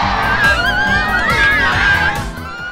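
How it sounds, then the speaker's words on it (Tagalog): Large crowd at a record-setting kuratsa dance event erupting in shrill screaming and cheering, loud and sustained, with high whistle-like shrieks layered over a dense roar of voices. "ang tugtog na palitan ng palakpakan at hiyawan"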